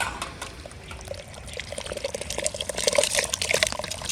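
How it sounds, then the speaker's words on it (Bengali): Hilsa fish being washed by hand in water, with close splashing, trickling and pouring sounds that grow busier and louder toward the end, no speech. "এখন মাছটা আমি ধুয়ে নেব"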